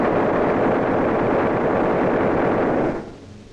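Gunfire aimed at a bomber plane: a rapid, steady rattle of machine-gun fire with a dense low roar, holding for about three seconds before cutting off into a fading rumble.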